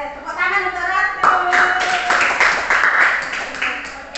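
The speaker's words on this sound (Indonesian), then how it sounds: "tepuk tangan untuk Ratu" A class of students claps for a classmate in a maths lesson, with a burst of quick, scattered handclaps following a short spoken phrase, while voices continue over the clapping.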